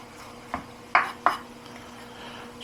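Knife strikes on a cutting board while garlic is minced for Greek strapatsada eggs with tomatoes, three or four quick, close, separate taps over a quiet kitchen background.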